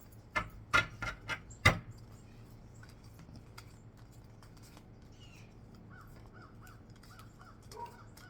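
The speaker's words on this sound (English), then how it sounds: "you hear them crows?" Crows caw several times in a row, sharp and fairly close, at the start. Faint, distant calls and soft background noise follow.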